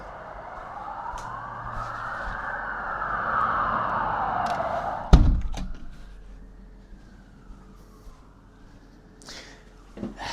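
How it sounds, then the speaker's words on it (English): Police sirens wail outside, rising and falling as a muffled, fairly distant tone, broken midway by a sharp knock or thud before the sweep carries on more faintly. "I have no idea, I just heard the sirens."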